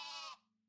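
A human voice imitating a goat's bleat, one short wavering cry that holds for a moment and then cuts off, up close and alone.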